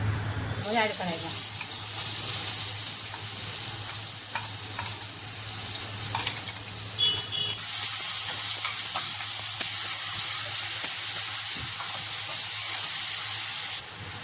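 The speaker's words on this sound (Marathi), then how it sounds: "भाजलेला मसाला असा आपला ग्रीन मसाला असा छान भाजून घ्यायचा" Green chilli masala paste sizzles and hisses loudly in a pan with oil and cumin, a continuous close frying roar with occasional stirring scrapes throughout.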